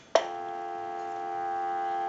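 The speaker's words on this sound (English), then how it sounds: "then I'll give you dial tone" A click, then a steady electronic telephone tone that holds evenly through the rest of the clip, with no voices.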